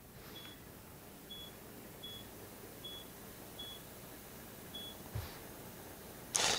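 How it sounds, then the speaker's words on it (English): A Ricoh Theta V 360 camera gives a series of short, faint, high beeps at steady intervals while it shoots three bracketed HDR exposures, followed by a click and a brief rustle at the end in a quiet room. "All right, I'm going to press the shutter now."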